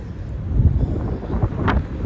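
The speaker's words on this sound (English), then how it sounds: "It's windy" Steady wind in Praia, Santiago, buffets the microphone, a low rumbling roar with gusty swells throughout and a brief brighter rush near the end.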